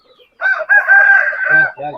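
A rooster crows once, close and loud, a drawn-out call lasting over a second, with no talking.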